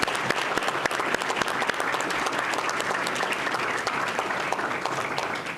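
Sustained applause from a large crowd at a school board meeting, steady and dense clapping that fills the room for several seconds without letting up.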